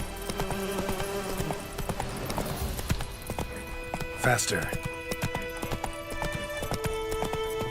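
Horse hooves clip-clopping at a gallop in The Witcher 3: Wild Hunt, a steady rhythmic beat under game music and ambience, with someone speaking briefly.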